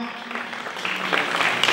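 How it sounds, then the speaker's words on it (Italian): Applause from the audience at a charity fashion and entertainment show, a moderate patter of many hands building slightly over a couple of seconds while a voice carries over it. "saluti il mio amico Vizzini, un applauso all'amico mio,"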